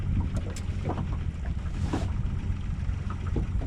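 A quiet two-stroke outboard motor drives a boat across a lake, a steady low drone mixed with wind buffeting the microphone and water noise, close and continuous with no talk.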